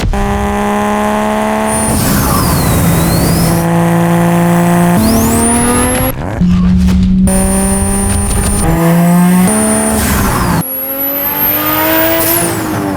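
A Datsun 280Z restomod engine revs hard and repeatedly through a 3-inch stainless exhaust with a 4-inch resonator, climbing in pitch through several gear changes with brief drops between, loud and close.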